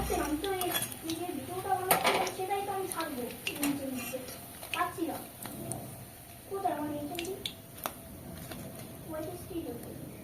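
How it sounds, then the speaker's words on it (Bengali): Metal utensils clink against a pan while crisp palta leaf fritters are lifted from frying oil, several sharp scrapes and taps scattered through a voice talking nearby. "আমি এবার তেল ছেঁকে তুলে নেব"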